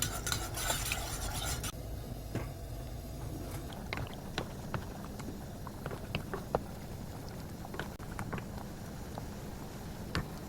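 A thin flour paste of a cup of water and a spoonful of flour is stirred in a pot, with soft intermittent scrapes and light utensil taps against the pot over a quiet background.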